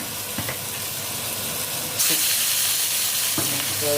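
Marinated rohu fish, rubbed with salt and turmeric, sizzles loudly in very hot oil, a steady close hiss that jumps louder partway through, with occasional clinks.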